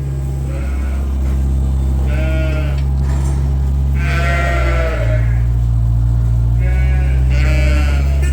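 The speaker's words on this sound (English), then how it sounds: "You look like snow sheep now." Several sheep on a snowy farm bleat in turn, wavering calls at varying distances over a constant low rumble.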